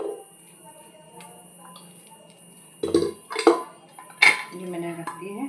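Food is broken by hand into small pieces and dropped into a pressure cooker in a home kitchen, giving a few sharp metallic clanks and clinks against quiet room tone, with someone speaking briefly.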